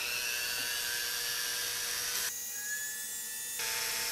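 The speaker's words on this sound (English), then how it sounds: "So I'll just drill straight through this rod." A steady high-pitched whine of a drill bit grinding through a rod, continuous and close, briefly changing tone midway before resuming.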